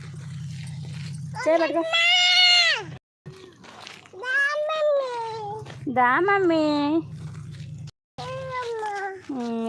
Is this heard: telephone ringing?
no